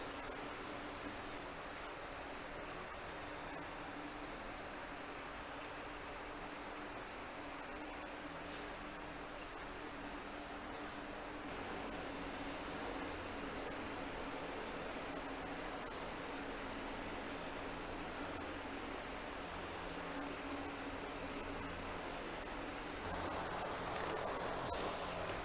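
A Rust-Oleum aerosol can sprays gloss paint onto trailer fenders, giving a steady, close hiss that runs nearly unbroken, with brief pauses and a slightly louder, fuller burst near the end.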